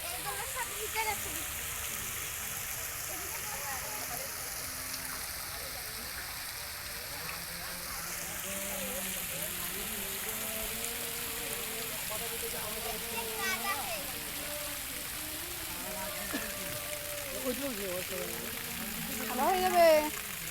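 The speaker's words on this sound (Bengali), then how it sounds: "দেখুন বাইরে জল পড়ছে, হাতটা পুরো ভিজে গেল" Rain falls outdoors in a park as a continuous, even hiss that lasts the whole stretch, with faint voices and other background sounds mixed underneath.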